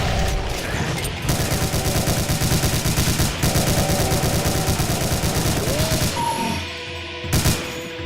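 Dense, rapid automatic gunfire from the shooter game Doom rattles on almost without pause for several seconds, loud and continuous, then breaks into a few scattered bursts near the end.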